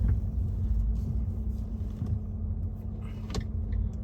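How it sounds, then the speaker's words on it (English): A 2014 Fiat 500 0.9 TwinAir pulls out onto a main road, its small engine giving a steady low rumble with interior cabin hum and a brief knock near the end, no voices. "Just pulling out onto the main road here."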